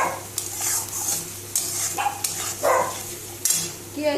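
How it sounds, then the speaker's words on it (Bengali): A paste of onion, garlic, ginger and green chilli fries in a pan, a low sizzle beneath repeated stirring scrapes and clatters, close up, with a faint background bark or voice now and then. "পেঁয়াজ রসুন আদা কাঁচা লঙ্কা বাটা দিয়ে একটু কষিয়ে নেব।"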